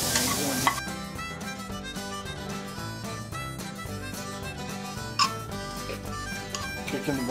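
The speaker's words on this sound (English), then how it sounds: "Hear the sizzling?" Food sizzling and being stirred in a home kitchen pan, with barbecue being cooked; a steady, close frying hiss runs throughout with a few sharper pops and clatters, and no talk over it.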